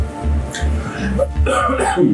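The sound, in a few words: cough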